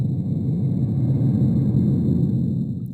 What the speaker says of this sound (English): That's a rocket landing.